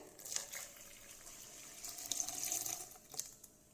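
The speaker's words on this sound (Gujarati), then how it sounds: "3 કપ જેટલું પાણી લેવાનું છે।" Water poured into a bowl for potato kadhi batter with amaranth flour, a steady close splashing pour with brief louder bursts and no voices.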